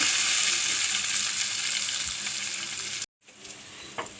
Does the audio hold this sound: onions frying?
yes